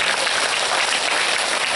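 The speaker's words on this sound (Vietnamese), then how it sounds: "Một tràng pháo tay thống nhất với nhau" An audience claps together at a career-guidance talk, a dense and even burst of applause that stays loud and close for its whole short length, with no voices.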